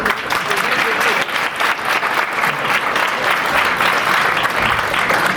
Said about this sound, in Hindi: so a big round of applause for yourself please